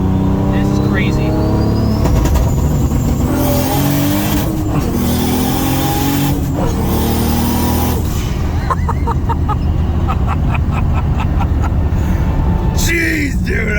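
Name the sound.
Toyota Supra engine revving with launch control or anti-lag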